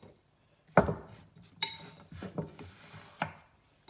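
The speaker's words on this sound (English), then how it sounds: "Let me put these in a bowl here." Sliced mushrooms dropped into a bowl, a few separate knocks and clinks of a knife and dish against a quiet kitchen background, spaced irregularly, close and fairly soft, no speech.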